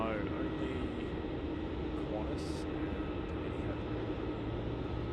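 Singapore Airlines Airbus A380-800 arriving at Melbourne Airport, a steady distant jet roar under casual conversation nearby.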